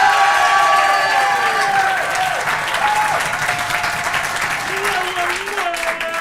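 A theatre audience at the Théâtre des Feux de la Rampe applauds and cheers loudly and continuously, with whistles and shouting voices rising above the sustained clapping.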